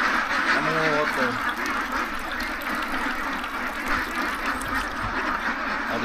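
Three-month-old domestic ducks give a couple of short quacks near the start, over a steady murmur of outdoor noise and background sounds.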